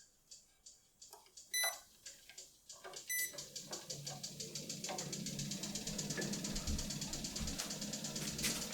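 A Horizon 7.0AT treadmill with a failing motor runs at increased speed, giving a steady rising mechanical whir under rhythmic thudding footfalls, with a few short beeps early on.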